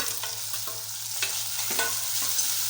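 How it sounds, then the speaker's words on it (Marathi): Onion, green chili and tomato fry in a pan, giving a steady bright sizzle broken by a few soft stirring scrapes and taps, close and alone without any voices. "नंतर लाल मिरची पावडर टाकायची आहे आणि हे सगळं छान असं फ्राय करायचं"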